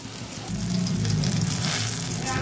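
Eggplant slices frying in hot oil, a dense continuous sizzle and crackle up close that swells slightly midway, with no talking.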